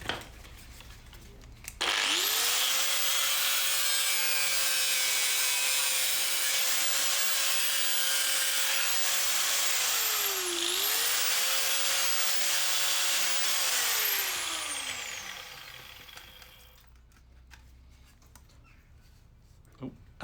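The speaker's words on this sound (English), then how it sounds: "I have got an old welding mask window that I'm just going to cut" An old welding mask window being cut to size with a power tool, a loud high whine that starts abruptly, runs steadily for about thirteen seconds with a brief dip in pitch under load, then winds down.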